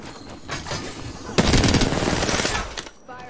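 Rapid bursts of Havoc rifle gunfire in the video game Apex Legends, a loud sustained stream of shots crackling at close range with no talk over it.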